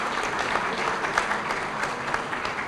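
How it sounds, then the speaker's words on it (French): An audience applauds at a science and technology award ceremony, a dense, steady wash of clapping from a crowd that holds at an even level throughout. "on peut accorder des acclamations"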